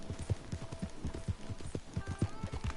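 Horse hooves clip-clopping in a PS4 video game, a quick, steady run of close, distinct hoofbeats at a trotting pace with faint background sound and no talking.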